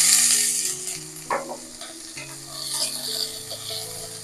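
Capsicum frying in oil in a pan with urad dal and curry leaves, a soft sizzle with stirring scrapes and a clink, under a steady tonal hum.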